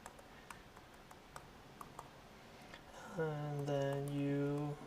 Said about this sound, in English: Apologies for the slow typing.